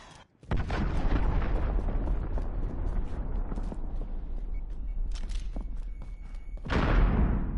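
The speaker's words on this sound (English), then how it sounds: "Enemy cruise missile. Take cover." An enemy cruise missile in a shooter game strikes with a deep booming explosion, followed by a long rumbling roar with scattered debris crackle and a second swelling blast near the end.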